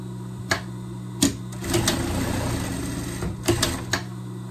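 A sewing machine stitches a seam on a small pet dress, running in short bursts with steady mechanical chatter between sharp clicks and handling knocks.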